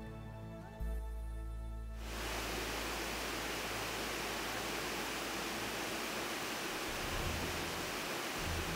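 Clear mountain water rushing in Jirisan, a steady broadband roar that swells in abruptly after a brief musical opening and then holds loud and continuous throughout.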